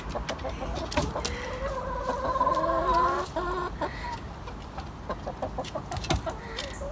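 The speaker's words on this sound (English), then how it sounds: "Hello, my peep of chickens." Several chickens cluck and chatter close by in a busy run of short calls over a faint background.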